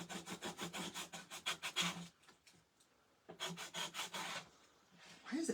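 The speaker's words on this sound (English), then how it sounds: "we can scrape all this paste off of here." A tool rasps in quick rhythmic strokes while scraping paste off a wet reusable magnetic mat, close and fairly quiet, with a pause in the middle before the scraping strokes resume.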